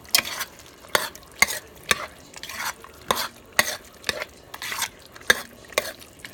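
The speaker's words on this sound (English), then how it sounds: "Let me get my spoon. Just keep up, people. Just stirring it around." A spoon stirs stuffed pepper filling of diced tomatoes, onions and mushrooms in a sizzling pan, giving a steady series of sharp scraping clacks about every half second over a soft frying hiss, close and fairly loud, with no talking.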